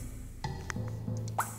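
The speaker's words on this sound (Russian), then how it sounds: "Ну давай, Нэнси, наливай." In the Bonsticks 2 video game, a liquid solution is poured with a few soft drips and plops, followed by a bright splashy tone near the end, all close and fairly quiet.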